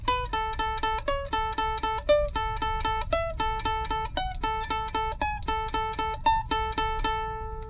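Ukulele picking a steady, even pattern, one fretted note alternating with repeated open-string plucks, bright and close, with no voices.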